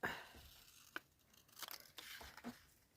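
Scissors snip and paper tears and crinkles as orchid pictures are cut out for a collage on a notebook page, a few soft separate cuts and rustles, close and quiet.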